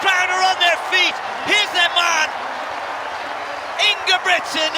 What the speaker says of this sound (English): The crowd are on their feet.